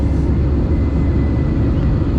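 A low-flying airplane passes over a small city, a steady broadband roar and rumble that fills the clip at an even, loud level with no voices.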